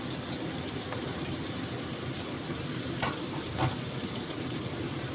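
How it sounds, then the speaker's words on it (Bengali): Taro and potato pieces fry in spiced oil in a pan, a soft, steady sizzle with a couple of faint stirring clinks, close and quiet, with no talking. "এখন আমি সবজিগুলো দিচ্ছি, দিয়ে আবার একটু কষিয়ে নেব"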